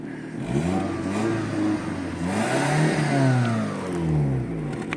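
A car engine revs on a cold start in a workshop, several rising and falling throttle blips over a rough, clattery idle, loud and close, with no talking.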